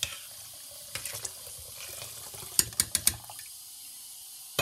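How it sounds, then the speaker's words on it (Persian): Water runs from a tap into a pot of Afghan haleem, a soft steady trickle broken by a few sharp clinks and splashes partway through, close and fairly quiet. "بعدا یک مقدار آب زیادتر اضافه میکنیم در این"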